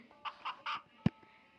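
A few short, quick clucks from a chicken on a farm in the Sakura School Simulator video game, fairly quiet, followed by a single sharp thump.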